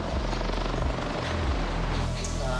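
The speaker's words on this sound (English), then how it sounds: "The Westpac rescue chopper joins in." A Westpac rescue helicopter flies over Bondi Beach, its steady rotor thump and engine roar loud and continuous throughout, with no voices on top.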